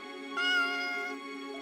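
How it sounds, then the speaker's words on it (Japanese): A single drawn-out cat meow, clear and close, rising briefly in the middle then trailing off over about a second. "その子が私の姿を見ると、目を細めてまた泣いたの。"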